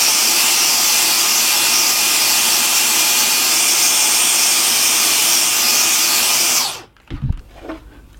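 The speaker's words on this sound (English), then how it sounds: "I'm going to hoover this part of the panel as well, because that's actually quite dusty as well." Vacuum cleaner hoovering dust off a computer case panel, a loud steady broadband roar running for nearly seven seconds before cutting off abruptly, followed by a few faint knocks and handling sounds.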